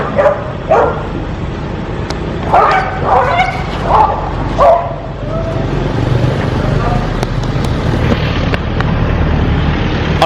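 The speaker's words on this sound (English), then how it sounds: "there's always a couple of dogs fighting over me." Several dogs bark, yip and whimper in a scuffle on a street in Pattaya, Thailand, with bursts of close, loud barking in the first half, then a steady background hum and a few scattered yelps.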